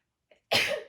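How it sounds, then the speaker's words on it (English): A single loud, explosive sneeze-like burst close by, preceded by a faint short intake. "I'm about to sneeze, I think."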